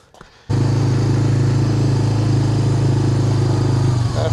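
Old 1996 Honda FourTrax ATV used as a log skidder, its engine kicking in abruptly after a brief quiet moment and then holding a loud, close, steady throbbing idle-to-run drone.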